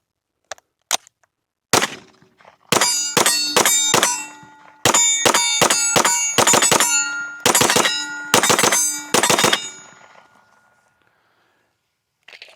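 Gen 3 KRISS Vector firing at a range in quick three-round bursts, several sharp cracks grouped tightly, then each short cluster of shots separated by brief gaps, loud and close with fading echoes and a last lone shot.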